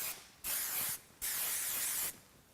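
CHI keratin flexible-hold hairspray sprayed in two steady hissing bursts, the second longer, close by with no talking.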